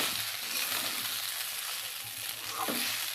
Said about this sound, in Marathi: त्याच्यात आता आपण हे पोहे घालून घेणार आहोत आणि असे हलक्या हाताने असे त्याला मिक्स करून घेणार आहोत